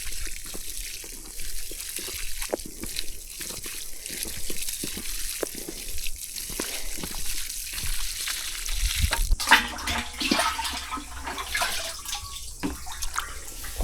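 Fish and seaweed liquid fertiliser poured onto a hillside vegetable garden bed, a steady splashing, gurgling stream of liquid running close by for the whole stretch, with no talking.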